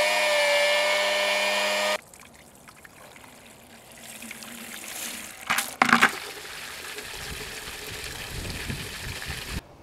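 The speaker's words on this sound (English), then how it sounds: "I have my utility pump, and I'll just plug it in and we'll see what comes out." A loud motor hum opens, then cuts off, followed by trickling and gurgling water with a brief louder splash midway, as a utility pump drains water from a well expansion tank.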